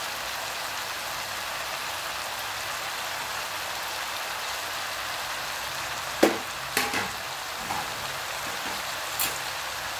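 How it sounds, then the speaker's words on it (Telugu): Amaranth greens frying in a pan give a steady hiss of sizzling, and a short burst of scraping and clatter from stirring comes about two-thirds of the way through. The cooking sounds are close and moderately quiet. "ఆకుకూర ముక్కలు వచ్చేదంతా బాగా కలుపుకోవాలి"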